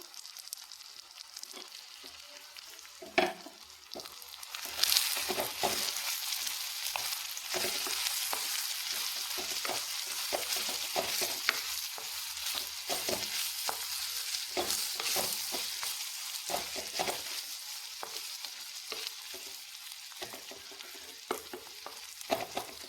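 Sliced rounds of bitter gourd fry in hot oil and are stirred in a pan, a loud close sizzle that swells after a few seconds, with frequent scraping and clattering stirring strokes throughout and no speech.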